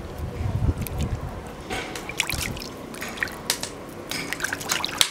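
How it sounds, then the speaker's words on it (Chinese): Cilantro and its roots being rinsed in water by hand in a home kitchen, with close splashing, trickling and dripping sounds in irregular bursts throughout, no talking. "这根也要洗干净"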